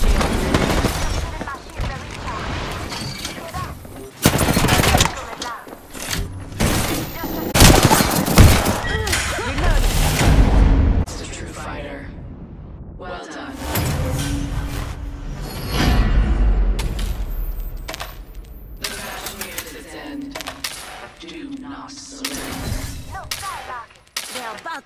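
Gunfire in the battle royale game Apex Legends: loud, rapid bursts and single shots crack in and out over several seconds, mixed with impacts and other game effects, while a player talks at times.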